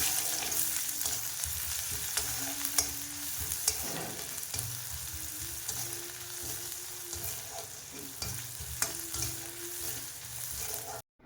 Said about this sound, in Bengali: পেঁয়াজ দিয়ে এবার এটাকে ভালো করে নাড়িয়ে নিচ্ছি